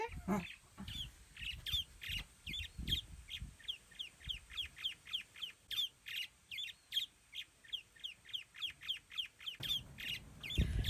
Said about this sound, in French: Les oiseaux qui viennent te réveiller.